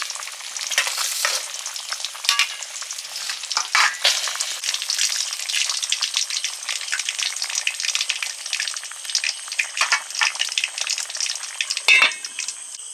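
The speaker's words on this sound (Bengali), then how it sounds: "এবার ঝালে রুই মাছগুলো দিয়ে দিচ্ছি" Rohu fish pieces fry in a spicy curry, a bright crackling sizzle with bursts of spattering and occasional utensil clinks, steady and close for the whole stretch.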